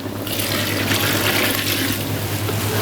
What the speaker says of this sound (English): Ideally use the hottest water in your tap so that it takes less time for the entire pot to boil